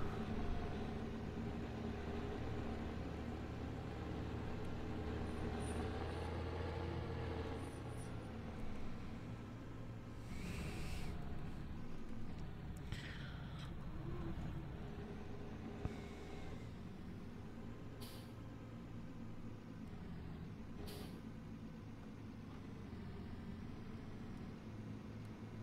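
A farm vehicle in Farming Simulator heard from inside the cab gives a steady low engine drone with broadband rumble. A few faint clicks and knocks sit over it at moderate loudness.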